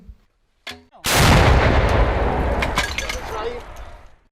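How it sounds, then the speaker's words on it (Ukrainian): A single loud, sharp blast from a mounted anti-tank grenade launcher that rolls into a long booming echo, preceded by a brief spoken word. "Після цього роблять постріл."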